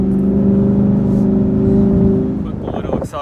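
A 2018 Mustang GT fitted with a Corsa active exhaust accelerating, giving a loud, deep, steady exhaust rumble that cuts off abruptly near the end, followed by brief rustling noise close to the microphone.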